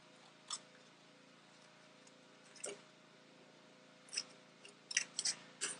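Scissors cutting paper to make a paper rose, heard as a few quiet, close snips, scattered at first and then bunched into a quick cluster near the end, over a hushed room with no talking.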